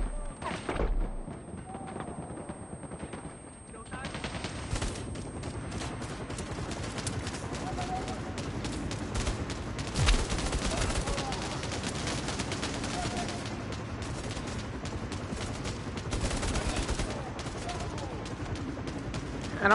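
Gunfire rings out in the virtual reality shooter game Bravo Team, with dense, continuous bursts of shots and impacts layered over a busy combat mix for the whole stretch, loud and close.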